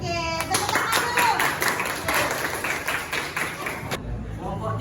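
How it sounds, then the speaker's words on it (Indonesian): Students clap together in a classroom, a burst of mixed hand claps lasting about four seconds, rising and thinning before stopping abruptly as a voice takes over. "tepuk tangan dulu."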